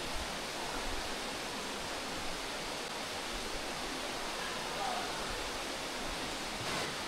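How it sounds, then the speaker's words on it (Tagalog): Water from a mountain waterfall pours in a steady, continuous broadband rush, fairly faint and even throughout, with no talking. "May lagas-las po ng tubig galing sa kabundukan."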